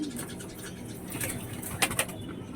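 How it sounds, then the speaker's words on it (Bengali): A female pigeon coos softly close by, with a couple of short flutters or taps near the end over a quiet background. "দেখো এই সেই পায়রাটা"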